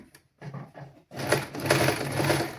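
A sewing machine stitches a half-inch seam on a child's garment neck band, running in two short bursts, then a steady, loud, continuous whir close by with no talk.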